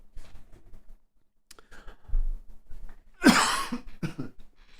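A single loud, harsh cough erupts close to the microphone, preceded by quiet breathing and small clicks, then a brief throat-clearing follow-up.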